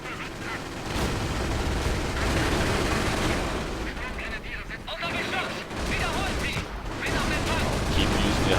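Sustained battle noise from Company of Heroes: dense gunfire mixed with high explosive shell impacts, a continuous loud barrage with brief lulls, and some talk faintly beneath.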